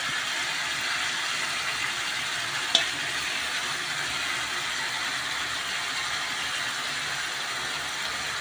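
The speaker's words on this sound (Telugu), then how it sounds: "చికెన్ చక్కగా మసాలా మొత్తం పట్టేటట్టు తిప్పుకోవాలి" About a kilogram of chicken fries in a fried masala paste for a village-style chicken fry, giving a steady hiss and sizzle with one sharp click of the stirring utensil. No voices are heard.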